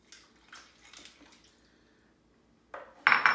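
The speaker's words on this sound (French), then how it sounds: "On va mettre un peu d'eau glacée." Ice water poured into thick homemade hummus: a short splashing pour near the end after soft clinks of utensils, close and clear.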